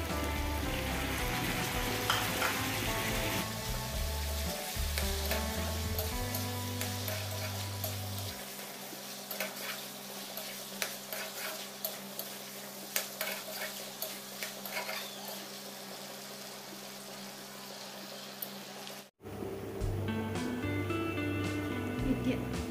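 Mutton sizzles and fries in a hot pan after ground dried chillies go in, a dense crackling hiss with scattered clinks of a utensil against the pan and a brief break near the end.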